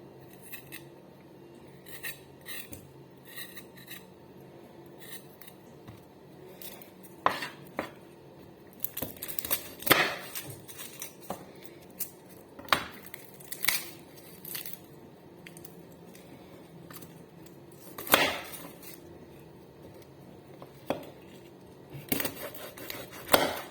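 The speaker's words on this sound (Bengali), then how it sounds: "মাংসের জন্য আদা, রসুন, পেঁয়াজ এগুলো রেডি করে নেবো কাইটে" A knife cuts ginger, garlic and onion on a board in a home kitchen, giving sparse, irregular sharp clicks and taps at close range with quiet pauses between them.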